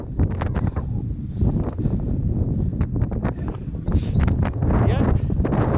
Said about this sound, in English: Yeah, even that wind.